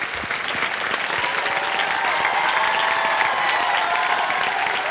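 Studio audience applause on the KBC quiz show set, a loud, dense and continuous burst of clapping from the crowd that holds steady for several seconds without talk over it.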